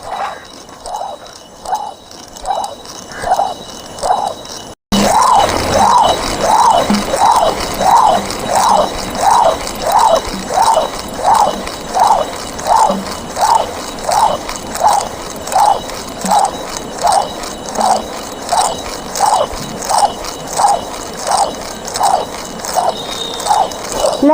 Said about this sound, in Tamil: நான் கல்லில் அரைக்கிறேன்